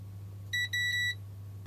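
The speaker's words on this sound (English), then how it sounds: "You can see though this beeps and this beeps." An in-circuit ESR capacitor tester on a printer mainboard gives a short pair of high electronic beeps over a steady low mains hum, clear and close.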